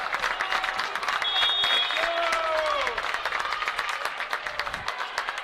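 Student section crowd at an Earlham Quakers volleyball championship match cheering and clapping in a gymnasium, a dense, loud, sustained roar of applause and shouts.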